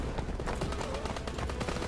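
Rapid, dense gunfire fills a World War II battle in Call of Duty WWII, bursts overlapping continuously like massed rifles and machine guns firing close and loud, with no talk heard.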